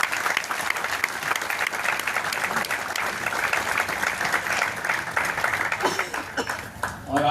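Business seminar audience in Mumbai breaks into sustained applause, dense continuous clapping from a large crowd filling the room, loud and steady for several seconds before thinning slightly at the end.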